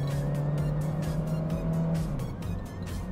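A Honda Fit's engine revs up under a heavier press of the throttle, a steady, fairly loud motor drone with a sustained low hum that rises slightly, running alone without voices.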